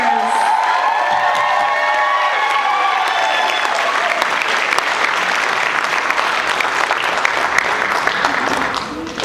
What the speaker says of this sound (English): One more round of applause for all of our seniors.